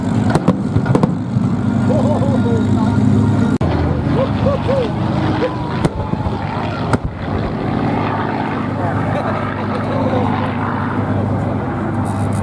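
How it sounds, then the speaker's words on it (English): A pair of two-seat Hispano Buchon fighters, Messerschmitt Bf 109 type, flying together, their engines producing a loud, steady, sustained drone that fills the whole clip at close range. "It's quite appropriate to see the two Buchons operating as a pair"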